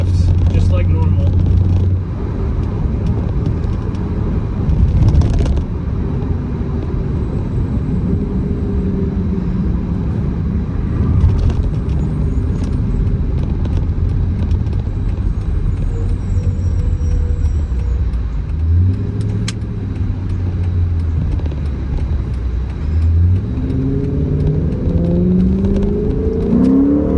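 A Dodge Charger with an automatic transmission drives and upshifts, the engine drone dropping and rising again through the gear changes, with someone talking over it.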